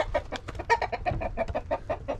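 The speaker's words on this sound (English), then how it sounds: "You might want to watch the rooster. Sometimes he's a little territorial." A rooster on a farm clucks in a rapid, steady run of short calls, close and fairly loud, with brief thumps that may be wing flaps. No one speaks over it.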